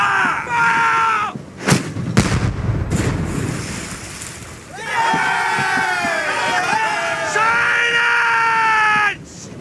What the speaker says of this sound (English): Starboard bow chaser! Fire!